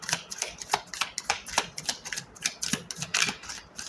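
Rapid, crisp papery clicks and riffles repeating in quick bursts, close up, as tarot cards are shuffled, with no voices.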